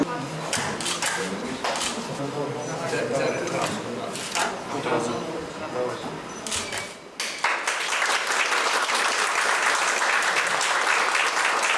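Medics at a stamp cancellation ceremony at a regional main hospital base burst into steady applause, with speech and clatter over the first half and then dense, even clapping to the end.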